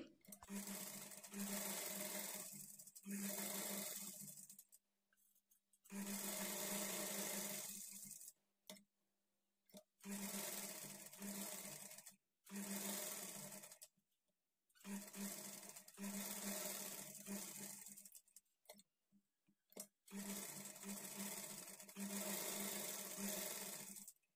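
A sewing machine stitches velvet fabric for a high-neck blouse in repeated bursts of steady whirring, each a few seconds long and separated by short pauses, loud and close with no talking.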